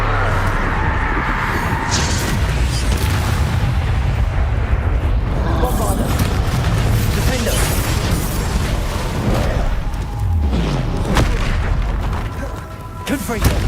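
Blasting Bombarda spell explosions from Hogwarts Legacy boom loudly and repeatedly amid constant combat clatter, with heavy low rumbling running the whole way through.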